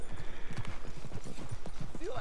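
Horse hooves clip-clop steadily at close range in Red Dead Redemption II, a quick even rhythm heard under someone speaking throughout.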